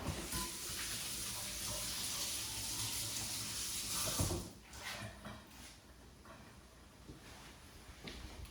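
Kitchen tap water running steadily while an avocado is washed, a close hissing stream that eases off partway with a few light knocks and splashes.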